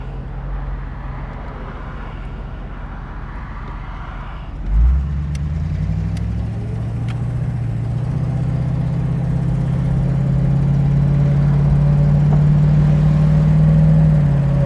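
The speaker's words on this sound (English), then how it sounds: "Car's idling nicely." A 1973 Ford Mustang convertible with a 302 V8 idles with a low, even rumble from inside the cabin, then pulls away as the engine note climbs steadily and stays loud.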